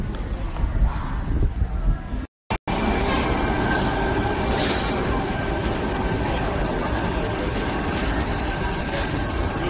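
Steady rumbling of a Sydney train bound for Bondi Junction with broad low-frequency roar, a brief dropout, then continuous rolling noise and faint high squeals throughout.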